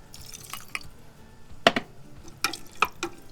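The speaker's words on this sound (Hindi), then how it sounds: "अराउंड 2 कप्स पानी के ऐड करेंगे।" Water poured into a pan of turmeric-spiced potatoes, about two cups, heard as a few sharp drips and splashes spaced across a quiet background, with no talking.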